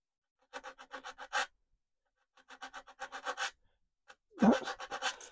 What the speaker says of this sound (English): I don't want to puddle up my video with noises of sanding machines, or sanding for that matter.